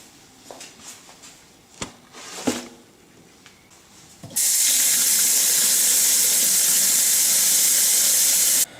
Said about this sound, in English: let's go ahead and throw this in the sink and wash it